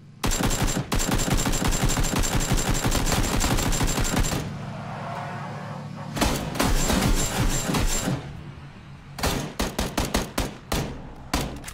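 Gunfire in the PUBG video game comes as loud, rapid bursts of shots close by, broken by short pauses, then a scattered run of further single shots.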